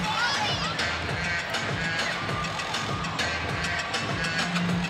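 An arena crowd at a Florida at Auburn gymnastics meet erupts in loud, sustained cheering and high-pitched shouting that fills the whole stretch without letup.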